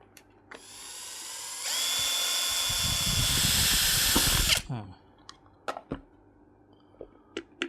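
A power drill whines up to speed and runs for about three seconds while boring holes for a homemade fishing rod motor mount, loud and close, followed by scattered clicks and handling sounds.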